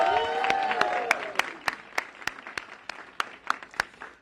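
An audience at an Illinois community development event with Governor Pritzker claps, a thin scattering of distinct, widely spaced handclaps beneath someone speaking in the foreground.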